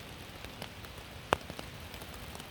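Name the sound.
rain falling at night on a hike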